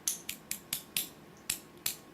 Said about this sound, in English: you go to there, you see, and you hear a little click